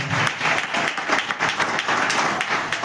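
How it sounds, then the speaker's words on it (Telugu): A church congregation breaks into steady, continuous applause, a loud, dense mass of clapping hands filling the space for several seconds with no other sound over it. "చప్పట్లు కొడదాం"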